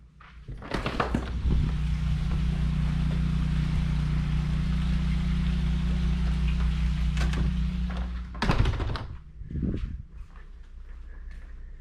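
A whole home standby generator, a Kohler unit, runs steadily with a low, constant hum and harmonic drone that holds for most of the stretch, with a few nearby knocks and door-like clunks near the end.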